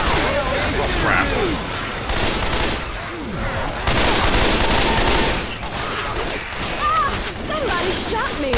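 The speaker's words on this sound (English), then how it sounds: "Somebody shot me." Rapid bursts of gunfire from the Left 4 Dead video game with holiday mods, fighting in a narrow hallway, crackle loudly and nearly nonstop while several players talk and shout over them.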